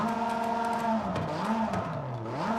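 A Porsche RSR race car engine in Forza Horizon 5 drones steadily, then its pitch dips and rises through gear changes, heard alone and up close.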